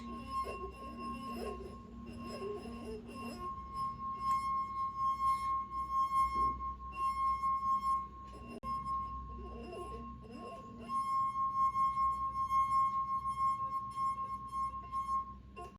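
A wet wine glass rim rings with a sustained, pure singing tone that swells and fades as it's rubbed, with little water in the glass, over faint handling noise.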